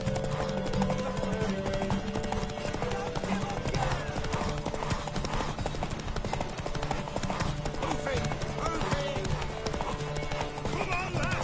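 In the video game The Witcher 3: Wild Hunt, steady clip-clop of galloping hooves runs throughout, with occasional horse whinnies over a busy music and effects backdrop, and voices talking over it.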